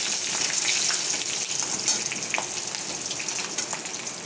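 Slit green chillies and bay leaves fry in hot oil with panch phoron, giving a steady, bright sizzle close by, with small crackles and a few light stirring touches.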